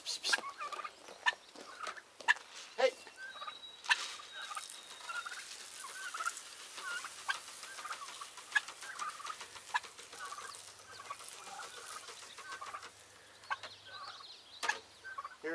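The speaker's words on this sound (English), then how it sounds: "Here comes the turkeys." Turkeys let out to forage gobble and cluck in quick, scattered bursts at moderate distance, a busy chorus of short calls over a quiet outdoor background.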